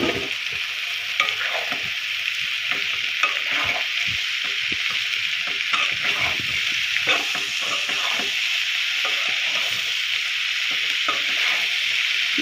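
Fish head seasoned with turmeric fries in hot oil in a pan, a steady close sizzle running throughout with repeated scraping stirs of a utensil and no one talking.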